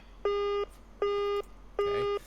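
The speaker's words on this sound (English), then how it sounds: "Ooh, a phone's ringing." A phone in a video game rings in three even, identical electronic tones, each about half a second long with short gaps between them. The rings are clear and close, with no talk over them.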